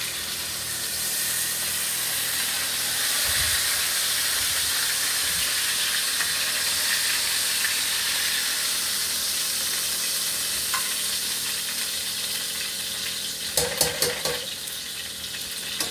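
New York strip steaks sizzle and hiss steadily in a hot frying pan, a continuous bright crackle with a few louder pops and clinks near the end.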